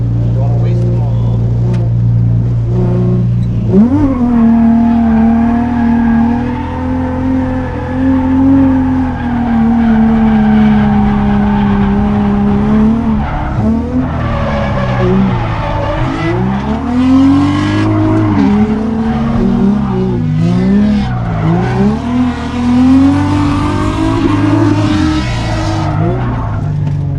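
Nissan 350Z drift car at an open drift day on a track, its engine revving hard and howling through sustained skids with squealing tires, loud and continuous, while people talk over it.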